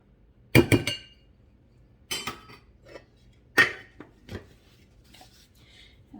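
Spoon clinking against a bowl while powdered sugar and cocoa powder are stirred together, a few sharp clustered clinks and scrapes spaced apart in a quiet kitchen.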